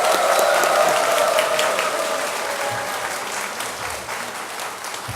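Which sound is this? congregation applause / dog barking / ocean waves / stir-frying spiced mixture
congregation applause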